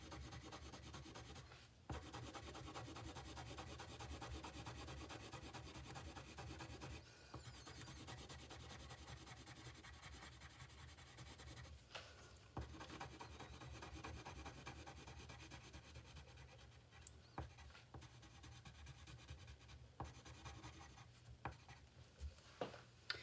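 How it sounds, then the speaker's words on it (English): A red colored pencil shades across paper in a steady, close scratchy rubbing that continues through the whole stretch, with a few brief pauses and lifts of the pencil; no one speaks. "I'm going to do one more pass with the red pencil."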